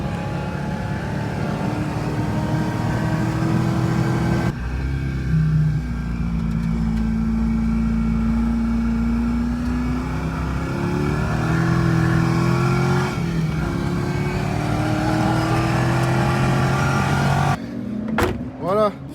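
A Corvette sports car runs on a race circuit, its engine droning and shifting pitch through gear changes, with people talking over the engine noise near the end.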